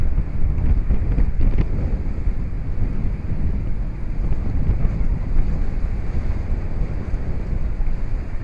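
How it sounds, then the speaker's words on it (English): Strong wind roars across the microphone at a sailboat anchorage off Mexico near the Sea of Cortez, a loud, steady rumbling buffet with waves and surf washing beneath it. "And the wind has picked up, my friends."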